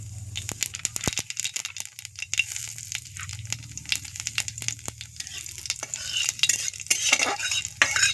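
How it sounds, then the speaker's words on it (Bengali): Nigella seeds sputter in hot mustard oil in a kadai, sharp crackles and pops scattered over a low steady hiss, with the pace picking up toward the end and no voices. "উনুনেতে কিছুটা সর্ষের তেল দিয়ে দিলাম। এবং ফোড়ন হিসেবে দিয়ে দেবো একে একে কালো জিরে"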